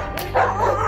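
A dog gives a short yip or bark close by, part of a tense encounter where a man in a protective bite suit is about to face the dog; a single brief burst over steady background noise.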